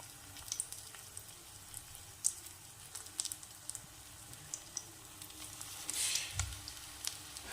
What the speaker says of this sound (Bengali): তেলটা যখন এরকম গরম হয়ে যাবে তখন বড়ার আকারে গুড়ে পাট শাকগুলো ভেজে নিতে হবে